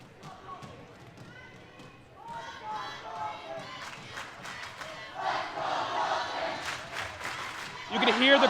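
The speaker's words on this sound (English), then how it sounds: "You can hear the crowd yelling" A crowd at a high school wrestling match yells and cheers, swelling louder toward the end, with squeaks and thuds from the mat and a commentator talking over it.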